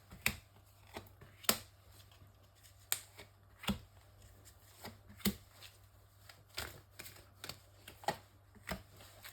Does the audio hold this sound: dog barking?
no